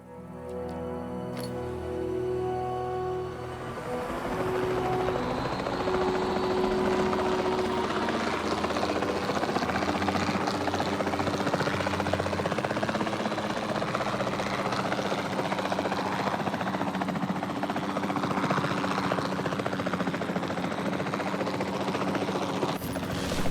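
A helicopter in the Jurassic World Evolution 2 video game drones steadily and loudly throughout, its rotor and engine roar rising after a brief opening and holding constant with no talk.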